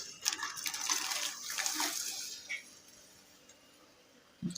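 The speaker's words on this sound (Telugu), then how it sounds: "ఇప్పుడు వీటిని నీళ్ళల్లో వేసి చక్కగా 2-3 సార్లు శుభ్రం చేసుకోవాలి." Dried shrimp are swished and rinsed by hand in a bowl of water, a close splashing and sloshing for about two seconds that fades to quiet, then a brief knock at the end.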